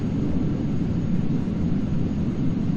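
Steady, broadband aircraft engine and airflow roar during a landing approach in Microsoft Flight Simulator X, loud and constant with no other sounds on top.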